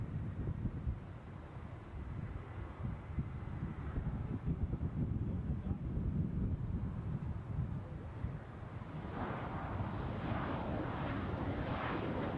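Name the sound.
Qatar Airways Airbus A319 airliner on final approach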